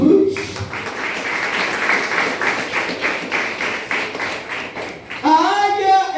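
A church congregation applauds in a steady wash of clapping for about five seconds, fairly close and even, before a voice cuts back in over the fading claps.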